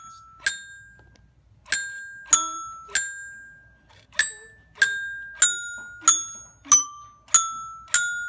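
A small toy coding robot plays the Jingle Bells melody in simple tinkling electronic tones, single bright bell-like notes at an even, slightly halting pace, close and clear.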